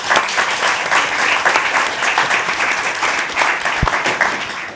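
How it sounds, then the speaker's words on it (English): An audience at a climate and development finance event claps loudly and steadily throughout, dense and sustained with no talk over it. "let's give her a round of applause"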